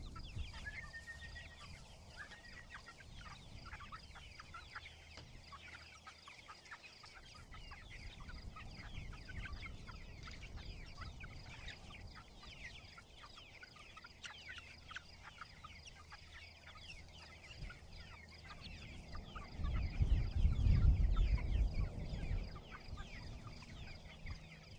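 Chickens on a farm cluck and call steadily for the whole stretch, with rooster-like calls mixed in and some louder rustling and handling noise near the end.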